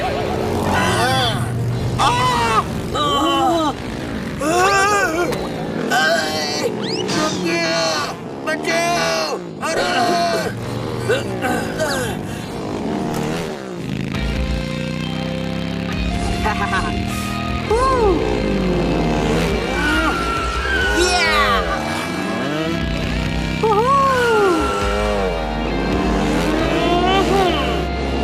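Cartoon motorcycles of a biker gang rev and whine with swooping engine tones, mixed with animated voices talking over much of the stretch.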